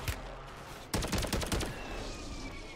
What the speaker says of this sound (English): He just shot me with an MCW single shot.